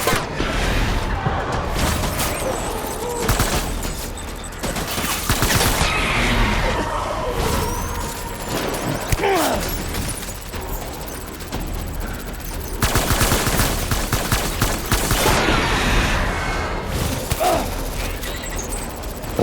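Rapid gunfire from the video game Death Stranding Director's Cut, loud and dense, with repeated bursts and crashes filling the scene almost continuously.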